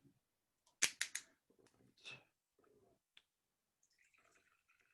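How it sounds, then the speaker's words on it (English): Wine poured from a bottle into a glass, heard as a quiet series of short splashes and clinks clustered together, followed by faint trickling and a soft glassy tick, with no talking. "I'm going to pour myself a glass while we do that."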